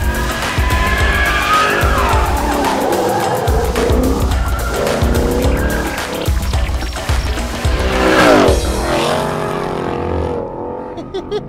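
A 2021 RTR Ford Mustang with a Roush-supercharged 5-litre V8 and 10-speed automatic roars and drifts, tyres squealing loudly and continuously as the engine revs rise and fall, with no talking.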